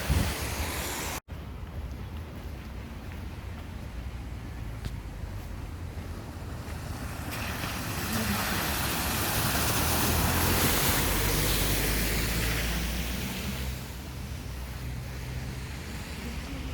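Surf washing onto a beach, a steady broadband roar of waves and wind that swells louder in the middle and then eases, with wind buffeting the microphone and no voices.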